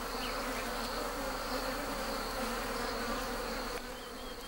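Wild bees swarm around a harvested honey nest, a dense, steady buzzing drone that fills the air closely and continuously without pause.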